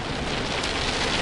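Heavy rain pours down in a dense, continuous loud hiss, steady throughout the brief stretch with no voices.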